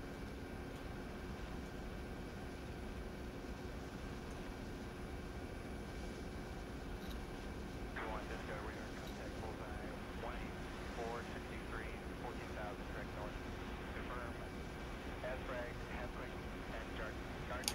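A helicopter in ArmA 3 drones with a steady, even rotor and engine hum during a heliborne maneuver. The sound is constant and moderately near, and faint voices come through over it in places.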